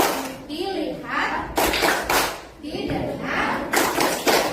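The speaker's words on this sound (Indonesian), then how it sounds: "Kita lakukan peregangan dengan tepuk fokus ya." A group doing the tepuk fokus clap routine in a classroom, bursts of rhythmic hand claps alternating with children chanting along in between.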